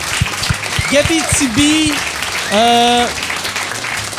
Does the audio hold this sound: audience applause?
yes